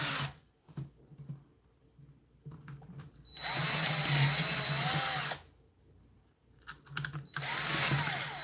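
A power drill runs in two loud, sustained bursts, with quieter stretches of handling noise and clicks before and between.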